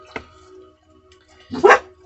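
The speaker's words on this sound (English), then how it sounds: "They like to bark at the people going by." Dogs inside an RV bark at people passing by: one short, faint yap, then a pause and a louder, fuller bark close by, with no talk over them.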